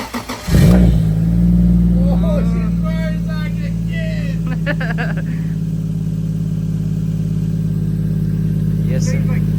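A Nissan R35 GT-R drift car engine fires up with a sharp burst, then settles into a steady, rumbling warm-up idle that holds close and loud. Faint voices are briefly audible underneath.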